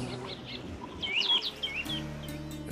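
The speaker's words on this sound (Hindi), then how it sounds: "पक्षियों के चहचहाने की आवाज़" Birds chirp in a short burst of thin, high tweets against a soft, steady background hum, set within a calm, green landscape of trees and hills.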